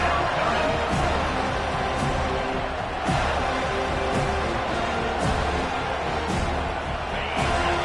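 Home crowd noise from a Florida State vs Penn State college football video game, a steady broad roar that swells periodically as the defense faces third down, running continuously throughout.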